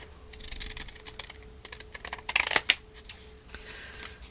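Scissors cutting during a crafting session: a rapid run of small crisp snips and rustles at close range, thickening into a denser burst midway before tapering off.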